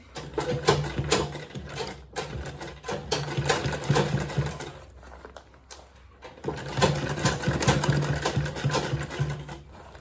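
A sewing machine runs steadily in fast bursts, stitching with a brief slowdown midway before picking up speed again, close and alone.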